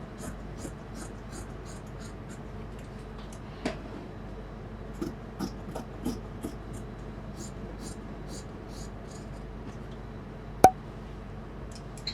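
Scissors cutting through fabric for a boxer: a faint run of small snips and ticks spaced irregularly, with one sharp louder click near the end over a quiet background.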